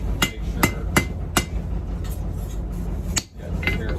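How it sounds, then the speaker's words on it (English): Hammer taps on riveted tongs during flattening steps, about eight moderate strikes ringing out at an uneven pace, close and clear, with no talk over them. "I'm not whacking this super hard for these flattening steps"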